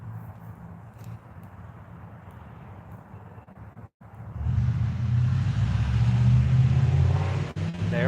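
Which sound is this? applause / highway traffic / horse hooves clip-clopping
highway traffic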